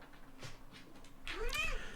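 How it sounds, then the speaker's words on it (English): A 20-year-old male house cat lets out a single drawn-out, rising-then-falling meow, close by and fairly loud, after a quiet stretch of soft room noise. "I have a great old cat. He's like 20 years old."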